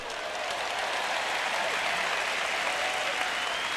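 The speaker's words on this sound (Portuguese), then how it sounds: "Bom, eu tenho 3 pessoas batendo palmas para isso." Audience members at a Christian sermon clap steadily and fairly loudly for several seconds, with no talking over it.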